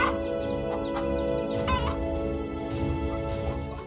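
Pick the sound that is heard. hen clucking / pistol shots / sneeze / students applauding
hen clucking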